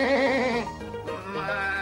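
Sheep in Australia bleating, a single loud, wavering bleat with strong harmonics that dips midway and rises again, heard close and alone.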